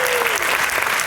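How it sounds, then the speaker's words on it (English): A loud, dense burst of audience applause at a university spring student showcase, steady and close for about a second with no speech over it. "So can we give a round of applause for these guys?"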